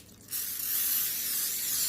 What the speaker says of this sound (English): We're going to spray our cookie sheet very lightly with a little bit of cooking